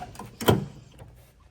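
Plastic and metal clunks from popping apart the door panel on a 1972 Ford Mustang convertible, one sharp rattling snap in the middle of a short handful of lighter knocks, close and fairly loud.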